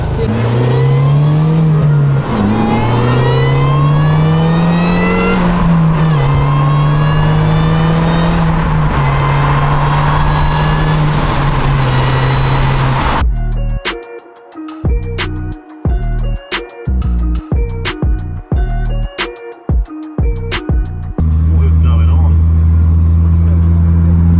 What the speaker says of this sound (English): let's hop in the Mini and go for a spin